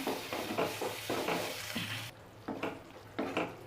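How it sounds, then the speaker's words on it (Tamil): A pan of fish curry bubbles and sizzles steadily as it boils, with rhythmic stirring or scraping sounds recurring every half second or so. "இப்போ இதை நல்லா கொதிக்கட்டும்."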